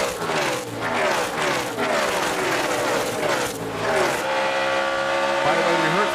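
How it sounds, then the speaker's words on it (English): Stock race cars roar past in a dense pack coming off turn four at a NASCAR oval, loud engines with rising and falling pitch, then a steady high whine as the field streams by. "You see all the cars coming off turn 4 through all that speedy drive."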